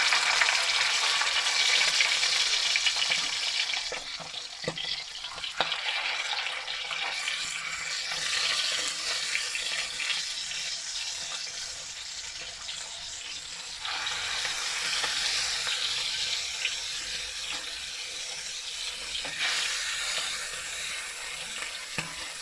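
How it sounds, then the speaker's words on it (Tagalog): Galunggong fish frying in a small amount of hot oil, a continuous loud crackling sizzle that swells and eases in waves, with occasional clicks and scrapes of a utensil in the pan. "painitin muna natin ng konti ang mantika and then ilalagay na natin ang isda."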